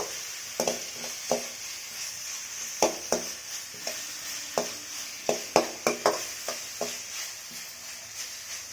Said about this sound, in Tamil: இந்த ஸ்டேஜில் நான் இஞ்சி பூண்டு சேர்த்துக்கிறேன். நல்லா வதக்கி விட்டுக்கலாம்.